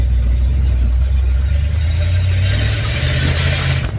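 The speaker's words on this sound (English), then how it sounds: "it kicked down into second when I gave her a little gas" A 1955 Buick Super with a big-block chassis swap kicks its transmission down into second gear under light throttle, the engine note rising steadily and loud, low rumble swelling toward the end.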